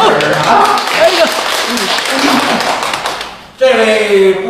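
Audience applause at a Deyunshe crosstalk comedy theatre show, a burst of clapping and tapping that fades, then a voice speaks briefly over a lull.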